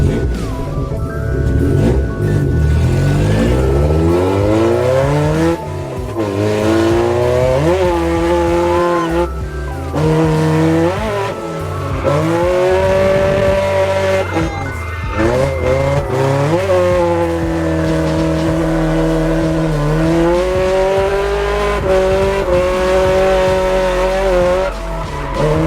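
A Toyota AE86 drifting, its engine revving hard and climbing and falling in pitch while the tires squeal in long sustained screeches, loud and close from inside the car with no talk.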